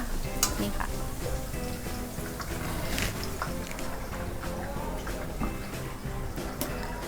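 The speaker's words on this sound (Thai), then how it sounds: "ทอดมาให้ไม่ต้องให้มันสุกมากหรอกค่ะ ให้มันเป็นขาวๆอย่างนี้ละค่ะ" Long eggplant frying in hot oil in a pan, a dense steady sizzle with occasional clinks of a utensil against the pan, loud and close throughout with no talk.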